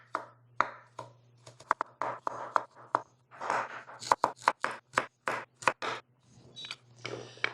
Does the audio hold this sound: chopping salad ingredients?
yes